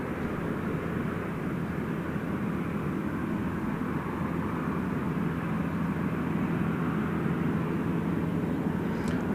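A Virgin Australia Velocity 515 airliner landing at Gold Coast Airport makes a continuous broad engine roar that holds steady at moderate distance throughout, with no voices.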